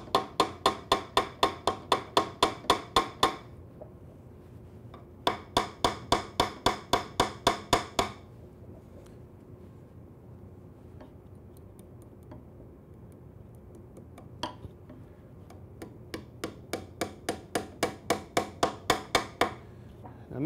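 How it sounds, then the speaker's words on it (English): Rapid bursts of hammer taps tack woven tape to the underside of a wooden cross rail on a Shaker bench seat, coming in quick rhythmic runs separated by pauses and a few lone taps. "I'm tacking that to the underside of the cross rail"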